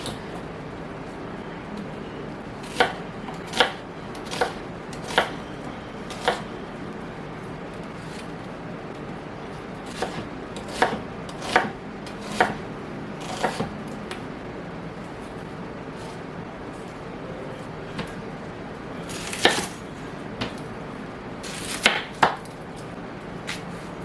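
Knife work on onions at a cutting board, peeling away soft outer skin, heard as sparse sharp taps and clicks spread irregularly over a quiet background, with several close strikes grouped near the end.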